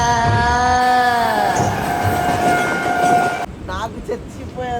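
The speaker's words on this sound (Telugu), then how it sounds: "వెనకాల దూసుకుంటూ విశాఖ ఎక్స్ప్రెస్ వస్తుంది" The Visakha Express rushes in from behind at a railway station late at night, its loud horn blaring with sustained tones over rumbling wheels before cutting off, followed by brief voice sounds.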